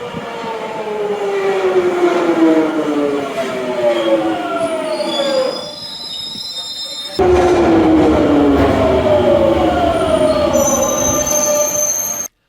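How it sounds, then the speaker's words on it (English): Loud GTO traction hum of a London Underground Jubilee Line train, stepped tones sliding downward in pitch as it slows, pausing briefly, then another descending stepping whine with high squeals. "When the train slows down, the GTO takes centre stage again, producing that descending, stepping, crazy hum."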